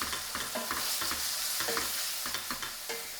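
A pan being deglazed with white wine, steady loud sizzling of liquid on hot metal with repeated scraping and stirring strokes, and no voices.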